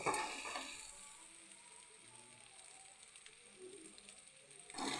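A little oil sizzles and fries food in a pan, with a steady faint crackle throughout and a couple of louder stirring bursts at the start and end.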